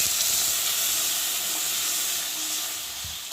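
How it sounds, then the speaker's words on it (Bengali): A little water splashes into a pan of frying Bhola fish curry and sets off a steady, loud hiss and sizzle that holds for a few seconds, close up and with no voices. "তো চলো আমি এখন একটু জল দিয়ে দিই।"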